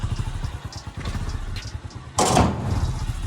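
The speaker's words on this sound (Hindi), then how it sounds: "दरवाजा बंद कर दो।" A door slams shut with a single sharp knock partway through, over a low engine-like rumble and background noise.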